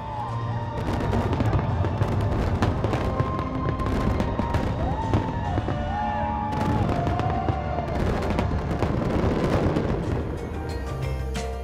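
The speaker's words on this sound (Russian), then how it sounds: "Логическим завершением официальной церемонии стал фейерверк." An eight-minute fireworks display closes the official ceremony of Expo 2017 in Astana, a dense, unbroken barrage of booms and crackles layered over a distant crowd.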